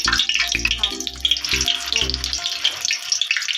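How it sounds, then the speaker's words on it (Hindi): Colourful patao snacks dropped into hot oil and frying, a dense, bright crackling sizzle running throughout, close and loud, with low thumps at intervals early on. "तो अब हम इसको अच्छे से फ्राई कर लेते हैं।"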